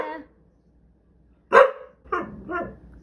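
A dog barks and vocalizes in short, talk-like bursts, one brief yelp first, then a loud bark after a pause, followed by two softer, drawn-out grumbling calls, close and clear.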